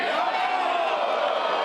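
College baseball crowd at Georgia Tech versus North Carolina, a brief sustained roar of cheering and whoops rising on a pitch, dense and steady throughout.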